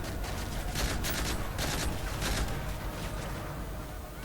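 Gunfire in Modern Warfare 3 crackles in rapid bursts and volleys, fairly loud and steady across the moment, with no voices over it.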